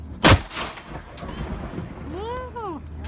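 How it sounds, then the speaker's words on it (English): A single sharp blast from a historic fort cannon near the start, followed by a rumbling echo; a voice calls out briefly afterward amid outdoor wind at Fort Mackinac. "there will be 2 commands of firing this cannon"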